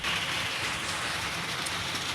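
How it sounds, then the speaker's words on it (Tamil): Steady rain falls outside, a continuous broadband hiss of drops striking surfaces with no pauses, fairly loud and close throughout, with no voices. "மழை பெய்யுது போல் ஏதாச்சும் சத்தம் கேட்டுச்சுன்னா அவாய்ட் பண்ணிடுங்க"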